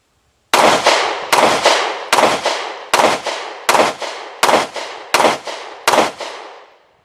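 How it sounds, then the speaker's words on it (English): Eight sharp gunshots from a Girsan MCP35 pistol, a compact Hi-Power style handgun, fired at an even steady pace, each crack loud and close with a short ringing decay. "It shoots really flat in the hand. It's really just stays right on target."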